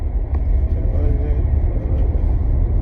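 A car driving, with a steady low engine and road rumble filling the cabin, loud and continuous, and a voice talking briefly over it.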